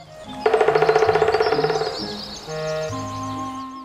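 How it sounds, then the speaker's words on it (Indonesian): A woodpecker drums on wood in a fast, even series of about twenty sharp taps lasting a second and a half, followed by soft background tones. "Suara patukan mereka disebut drumming dan merupakan ciri umum burung pelatuk."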